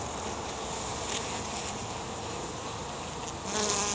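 A dense, steady buzz of many honeybees swarming close around an open hive during an inspection, a continuous insect drone that swells slightly near the end, with no talking.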